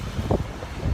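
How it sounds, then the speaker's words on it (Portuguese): Strong wind buffeting the microphone in a park during stormy weather, a steady low rumble with gusty bursts throughout. "O problema é o vento, né?"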